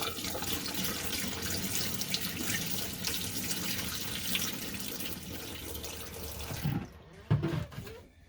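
Water runs steadily from an RV sink faucet as it is flushed during winterizing, a continuous broadband splash that stops near the end, followed by a few brief clunks.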